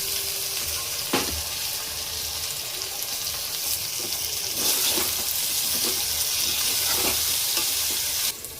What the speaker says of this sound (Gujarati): હવે આયુષી બેન નમો ટમાટર ટમાટરાય સ્વાહા નાખો નાખ જલ્દી નાખ